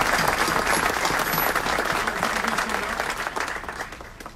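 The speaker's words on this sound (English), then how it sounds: "If you can please give a round of applause to Ms. Yan Bellatoni and her guests as they come down" Audience at a city council meeting applauding as guests come down to the floor: a dense, steady wash of many hands clapping, loud and continuous, tapering slightly toward the end.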